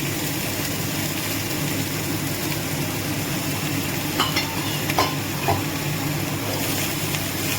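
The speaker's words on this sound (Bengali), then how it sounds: "কড়াই বসিয়ে তেল গরম করে আদা ফোড়ন দিয়ে দিলাম" Ginger frying in hot oil in a kadai, a steady close sizzle with occasional sharper crackles and stirring scrapes, no talking.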